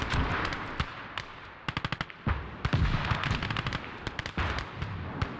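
Gunfire and artillery in the World War II strategy game Call to Arms: Gates of Hell, with dense bursts of machine-gun fire, rapid single shots and heavy booms layered together at a steady, loud level.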